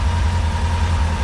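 A Kawasaki Ninja ZX6RR motorcycle idles steadily as it warms up, a close, continuous low engine rumble with no other sounds.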